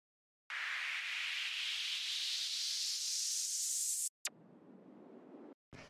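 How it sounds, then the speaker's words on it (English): White noise sweep made from raw noise in an Operator synth for a tech house track, a loud steady hiss rising in pitch for several seconds, then a sharp cut into a duller, lower noise burst. "the last thing we have here is this little white noise sweep thing that I made here with operator."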